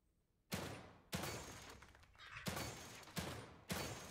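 Gunfire in the horror video game The Evil Within 2: five sharp, loud shots spaced irregularly about half a second apart, each with a crashing burst and short decaying tail.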